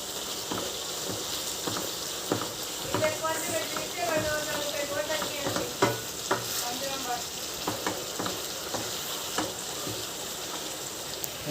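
Brinjals (eggplant) frying in oil in a pan, a constant crackling sizzle with scattered spoon scrapes and clicks, and a voice talking briefly over it partway through.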